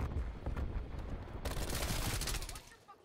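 Gunfire in Black Ops Cold War, rapid automatic bursts rattling continuously at close range, growing denser midway before tapering off toward the end.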